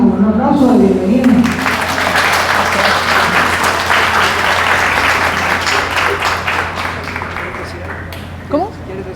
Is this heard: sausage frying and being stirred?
no